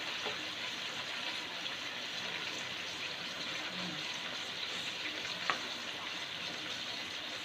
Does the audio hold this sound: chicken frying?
yes